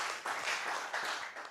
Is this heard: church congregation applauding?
yes